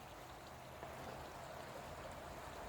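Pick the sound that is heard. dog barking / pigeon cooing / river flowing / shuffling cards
river flowing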